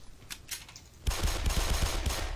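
Pistol fire in Black Mesa: after a quieter start with a few faint shots, a rapid string of sharp gunshots bursts in, loud and closely spaced, firing steadily to the end.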